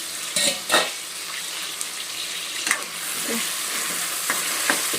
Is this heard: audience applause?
no